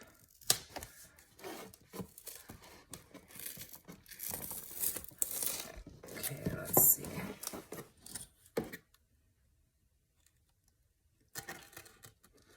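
Glued cover of a hardcover book being torn and pulled apart at close range, with bursts of ripping, crinkling and scraping, then a pause of near silence before a final short rustle.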